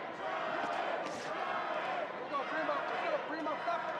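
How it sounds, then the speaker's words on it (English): Hometown crowd at a boxing match between George Chavez and Brandon Douglas, a steady roar of cheering and shouting heard at a distance under a commentator's voice. "And you hear the hometown crowd making noise for Chavez."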